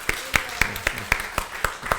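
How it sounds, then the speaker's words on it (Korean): A church congregation clapping in welcome, a brief burst of sharp, evenly spaced hand claps at a steady rhythm, near and fairly loud, with no talk over it. "자, 우리 먼저 박수로 환영합시다."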